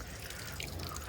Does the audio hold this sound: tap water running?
yes